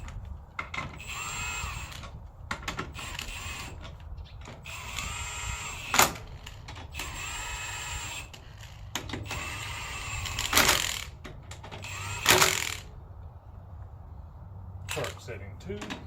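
A Milwaukee 18-volt cordless power tool works lug nuts on a car's left front during a transmission job, whirring in several short, loud bursts amid shop clatter, with someone talking in between.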